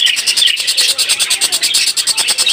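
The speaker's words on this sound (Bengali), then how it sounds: "এখানে দেখতে পাচ্ছেন একজোড়া বার্জিকের পাখি রয়েছে, ডিমে বসা অবস্থা রয়েছে এই পেয়ারটা" A pair of budgerigars chirps close by in rapid, rhythmic bursts of bright, high tweets, loud and almost continuous.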